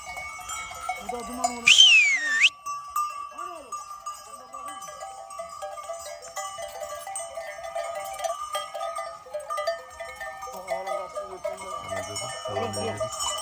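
A flock of sheep or goats moves through the pasture with livestock bells clanking and ringing continuously, a sharp metallic tone standing out early, while scattered bleats and a voice come through faintly in the background.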